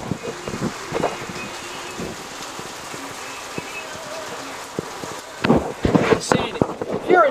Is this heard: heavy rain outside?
yes